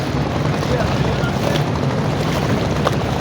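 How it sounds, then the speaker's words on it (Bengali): A boat crossing the Buriganga river near Sadarghat, heard as a dense, steady wash of water and wind rumble close to the microphone for a few seconds, with no distinct voices. "বুড়িগঙ্গা নদীতে নৌকা পার হচ্ছে"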